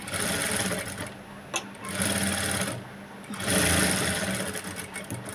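Sewing machine runs in close, loud bursts of rapid rhythmic stitching with brief pauses between, stitching thread piping onto a boat neck.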